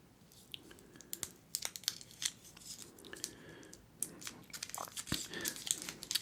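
A strawberry Starburst chewy candy is chewed close to the mic, giving soft, irregular wet smacks and crinkly clicks at a quiet level with no talking.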